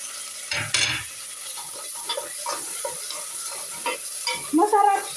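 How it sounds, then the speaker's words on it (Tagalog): Squash leaves and flowers sautéing with tuna in a pan, giving a soft sizzle with irregular stirring scrapes and clatters close by, no talking. "Pag maganda yung dahon, yung bulaklak, ginigisa ko sa tuna."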